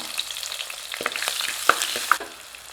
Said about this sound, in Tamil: இதெல்லாம் நல்லா பொரிஞ்சிருச்சுங்க